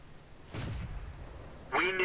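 A tank cannon in a video game, fired by an M5 Stuart, booms once at close range with a broad low thump, followed by a brighter in-game tonal effect, while a voice talks over it.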